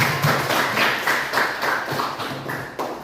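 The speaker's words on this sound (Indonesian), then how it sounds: "tepuk tangan lagi buat kita" Classroom applause from students in a mathematics lesson comes as a brisk, uneven patter of clapping hands that continues steadily throughout, fairly close and moderately loud.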